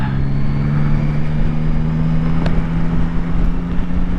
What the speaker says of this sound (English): The sound this engine makes. I think I am a triple man, definitely.